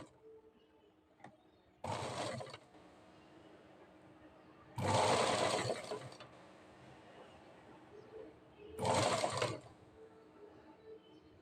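Sewing machine stitching a princess cut blouse with piping, running in three short bursts of a few seconds each, separated by quiet pauses, close and fairly loud.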